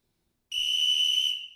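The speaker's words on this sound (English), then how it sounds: "since you're a coach, a little coach whistle" A coach's whistle gives one clean, shrill blast of almost a second after a moment of silence, loud and close, with no talk over it.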